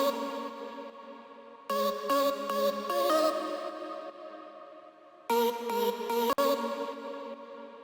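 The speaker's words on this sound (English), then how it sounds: "The next section we'll have a look at is the drop vocal sound" A future bass drop vocal synth plays in two bursts of choppy, stuttering pitched chords with echo tails, the first burst longer, separated by a sparse decaying gap.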